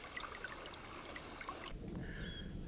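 Synthesized trickling-water ambience: gentle trickling water plays steadily and continuously, with a soft shift in texture partway through.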